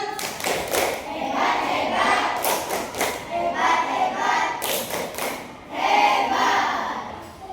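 A classroom of children performs the rhythmic 'tepuk hebat' clapping chant in bursts of group claps and patting with thumps, loud and close, with young voices chanting along between the clap patterns.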